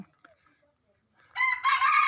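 A bantam chicken crows close by near an old traditional Thai Yong wooden house in Lamphun, a loud cock-a-doodle call rising after a quiet stretch with only faint background sounds.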